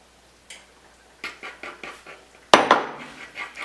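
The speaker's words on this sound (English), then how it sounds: "I'm just gradually mixing in the flour with this egg mixture here." Metal utensil clinking against a bowl while flour is gradually worked into an egg mixture for homemade pasta dough: a series of light, close taps, then one sharper, louder clank near the end, with no talking.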